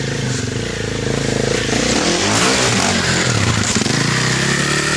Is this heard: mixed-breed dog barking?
no